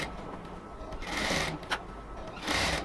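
A sewing machine stitches elastic together for a ladies' cotton pant, with short bursts of close, steady motor whirring that rise and ease across a few seconds, no voices.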